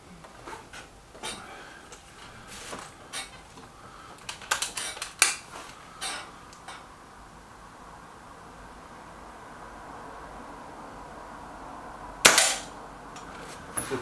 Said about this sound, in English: we're not sure if that first shot from the puncher Maxi is in or not